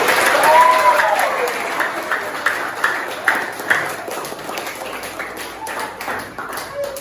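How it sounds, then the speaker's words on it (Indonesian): Children in a classroom clapping their hands in counted groups, a series of sharp claps in short bursts with pauses between, mixed with an adult's voice speaking and some background murmur. "Tepuk tangan 4 kali."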